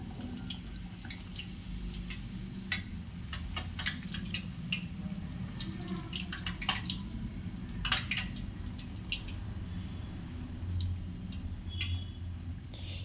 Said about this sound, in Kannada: ಪೂರಿನ ಇವಾಗ ನಾನು ಕರಿತೀನಿ ಚೆನ್ನಾಗಿ.